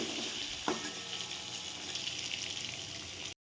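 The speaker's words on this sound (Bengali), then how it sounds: "এবার নুন হলুদ দিয়ে আমি ডিমটাকে ভেজে নিচ্ছি" Eggs seasoned with salt and turmeric fry in oil in a wok, making a close, steady sizzle with a single light clatter early on. The sound cuts off abruptly into silence at the end.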